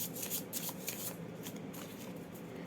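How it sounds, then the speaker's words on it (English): Tarot cards being shuffled by hand give a soft, quick riffling and rustling, close and quiet, in repeated bursts with no talking. "I'm going to shuffle the cards and pick the cards"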